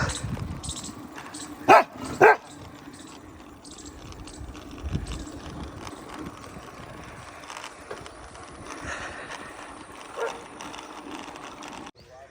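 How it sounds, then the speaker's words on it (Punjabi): A dog barks at a cyclist riding through a village in Faridkot district, Punjab: two loud, sharp barks close together early on, followed by a quieter stretch of outdoor background noise. "ਕੁੱਤਾ ਮੈਨੂੰ ਪੈ ਰਿਹਾ"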